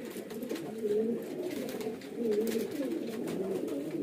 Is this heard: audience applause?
no